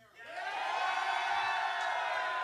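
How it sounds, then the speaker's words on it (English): A live crowd at a fantasy football event in Phoenix roars in a vote, the cheering swelling quickly from a quiet start into a loud, sustained wall of shouts and whoops. "If you would take Barkley over Kamara, let me hear it. That's coming in strong"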